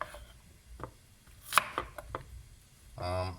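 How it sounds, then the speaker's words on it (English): A knife slices through potatoes on a cutting board, making soft, irregular chopping taps close by at low volume, with a brief scraping rub near the end. "Slice your potatoes like that, because we're also going to be roasting these in the oven."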